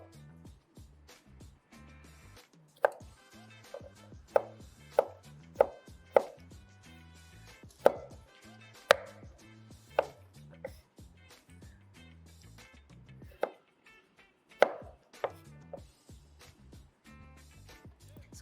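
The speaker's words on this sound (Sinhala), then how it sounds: "මම සුදු ලුණු ටික මේක බැදෙන අතරතුර හීනියට ලියා" A knife chops garlic finely on a cutting board with crisp, close knocks, spaced irregularly and sometimes in quick pairs, against a quiet kitchen background.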